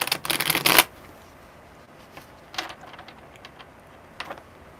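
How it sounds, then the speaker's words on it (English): Tarot cards are riffle-shuffled at a live reading: a loud, close burst of shuffling at the start, then a few faint scattered card taps and slides in a quiet room. "tell me when to stop shuffling"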